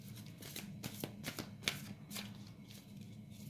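Tarot cards are shuffled and drawn with a run of soft, quick riffling flicks and papery slaps, close and quiet, with a sharper snap partway through and no talk over it.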